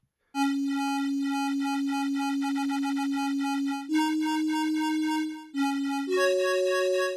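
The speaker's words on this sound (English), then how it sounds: "Oh, this is getting a bit of a flute, a synth flute sound." A synth flute patch on the OP-XY synthesizer plays sustained, pure tones with rich upper harmonics, holding one note for several seconds before stepping through a few short pitch changes, clean and alone.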